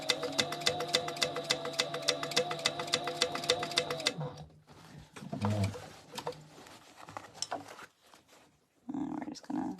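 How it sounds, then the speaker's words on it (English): A sewing machine stitches straight across fabric in one steady, rapid run lasting about four seconds, then stops; quieter handling noises and a voice follow afterward. "you're just gonna sew across. I went back and forth once."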